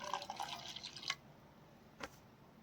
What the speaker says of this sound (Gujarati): હવે તેમાં પાણી એડ કરીશું